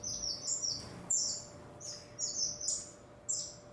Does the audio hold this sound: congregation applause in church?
no